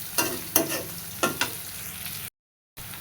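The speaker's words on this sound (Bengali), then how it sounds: "পেঁয়াজগুলো ভেজে নিব।" Onions frying in a pan, a constant sizzle broken by several sharp stirring scrapes, then a brief full silence before the sizzling returns.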